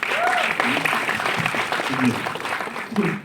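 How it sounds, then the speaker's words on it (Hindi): Audience applause at a film trailer launch event for Rajkummar Rao and Tripti Dimri, a dense continuous clapping that fills the whole clip at steady loudness, with voices mixed in beneath it. "इनके लिए ताली बजा दीजिए एक बार आप"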